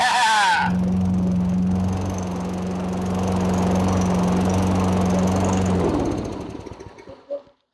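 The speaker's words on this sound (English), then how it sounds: "Lawnmower is back alive, back in business" An old lawnmower engine, revived after its carburetor passages were cleared, runs loud and steady at close range with a constant droning hum for several seconds, then cuts out and sputters to silence.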